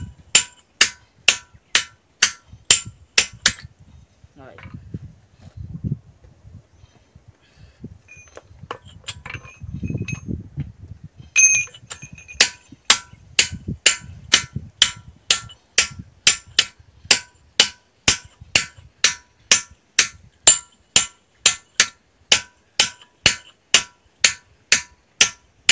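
A hammer strikes a steel chisel while drilling a hole in hard stone, giving a long series of sharp, ringing, evenly spaced metallic blows that pause midway under rustling handling and then resume in a steady rhythm.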